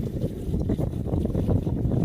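Moderate wind at 12 to 14 out of the south buffets steadily aboard a 40-foot Hunter sailboat, a low continuous rumble of gusts and water with no talk.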